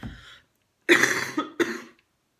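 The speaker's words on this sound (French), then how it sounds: "Excusez-moi, je suis malade, je le dis dans chaque vidéo. Je tousse tout le temps." Two close coughs in quick succession, the first heavier and longer, the second shorter, after a brief breathy sound.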